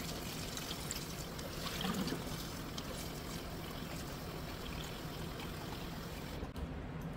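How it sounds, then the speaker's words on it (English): Hot tap water runs steadily over potatoes being rinsed in a kitchen, a soft continuous pour and trickle that stays fairly faint and even throughout. "I just kind of rinse them until I have clear water."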